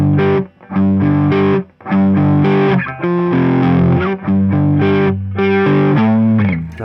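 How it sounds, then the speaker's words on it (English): Distorted electric guitar chugs through a power-chord riff, loud and close with short gaps between the chord stabs, no voices. "this is where we're going to do this power chords section"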